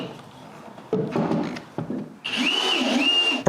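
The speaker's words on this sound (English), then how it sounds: "and screw everything in place." Assembly screws are driven into a wooden bookcase, with a few wooden knocks and rubbing handling noises first, then a power driver's whining motor spinning up and changing pitch as the screw seats, loud and close.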